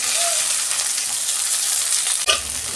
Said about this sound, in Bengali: বেগুনটা ততক্ষণ আমার ভাজা হোক